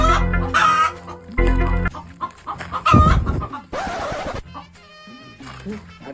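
Hens cluck in short bursts, with occasional louder calls, close by and mixed with people talking over them.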